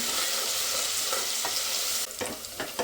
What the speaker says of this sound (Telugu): అయితే ఆనియన్స్ మంచిగా ఫ్రై అయిపోయింది